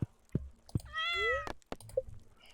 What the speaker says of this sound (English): Not before stroking our kitty.